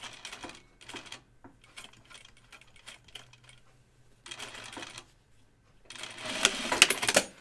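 Sewing machine stitching seams on a Kelly anorak, heard as several separate bursts of rapid mechanical stitching with brief pauses, ending in a louder, busier run near the mic.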